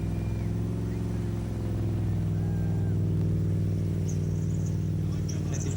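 A car doing a burnout, its engine held steady at about 2,500 to 3,000 revs, producing a loud continuous roar with a dense rumbling drone throughout and brief higher squeal-like tones late on.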